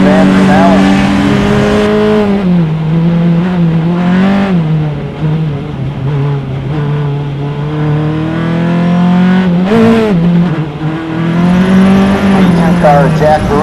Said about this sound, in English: Formula 500 looking like a runaway here for Battaglia